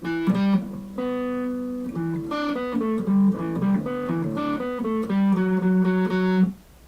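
A guitar plays a passage of a song as a continuous run of clear notes and chords, close and steady, fading out at the end with no talking.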